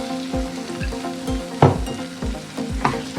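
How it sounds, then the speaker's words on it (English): Noodles with light soy sauce sizzle and fry steadily in a hot pan for an Egg Szechuan dish, with a few louder bursts and scraping stir strokes cutting through the continuous crackle, heard close and alone. "Now I'm adding soy sauce"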